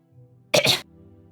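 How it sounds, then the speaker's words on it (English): A single sharp cough from a person on a live stream, close and loud, a brief double burst standing out from a quiet room background with no talking. "I gotta mute myself to cough for a sec"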